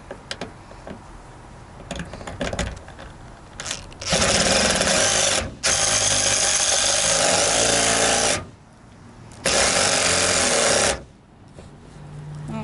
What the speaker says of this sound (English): that's going to require a second drilling.